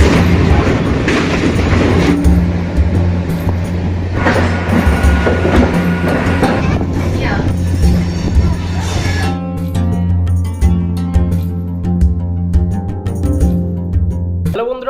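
A local train on the Howrah to Puri line rumbles along, with a loud rolling roar, rhythmic low clatter and squealing tones, then a quieter stretch of steady hum near the end, voices faint in the background.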